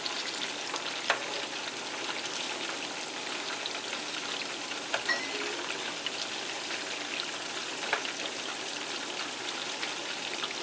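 Tilapia fillets fry in a pan with a steady, close sizzle and crackle, with occasional faint clicks of tongs turning them.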